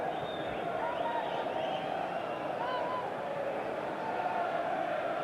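A capacity crowd of nearly 38,000 at Highbury during the 2002/03 Arsenal versus West Brom Premier League match, a steady, distant roar of murmuring fans under a commentator's talk.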